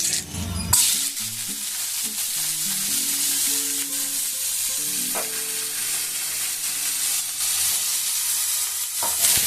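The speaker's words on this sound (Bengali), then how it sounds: "পেঁয়াজ কিন্তু খুব একটা লাল করে ভাজতে হবে না, হালকা ব্রাউন কালার হলে কিন্তু এটা হয়ে যাবে।" Onions fry in a pan for pav bhaji with a continuous loud sizzle and occasional stirring scrapes, while a soft melody plays underneath.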